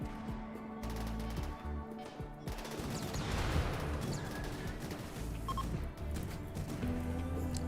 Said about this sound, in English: Needle gun to the head.